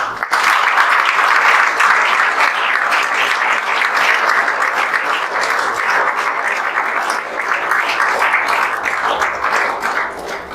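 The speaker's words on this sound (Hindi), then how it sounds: "तो कम से कम इन लोगों के लिए खड़ा होकर तो आप लोग ताली बजा दें।" A standing audience at a classroom results celebration bursts into loud, dense applause that holds steady for about ten seconds, many hands clapping at once, then begins to fade slightly at the end.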